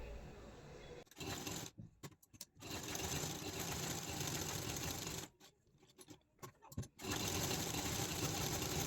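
A sewing machine stitches a canvas-backed neckline in a tailoring class, running in steady whirring bursts broken by brief stops, close and fairly loud.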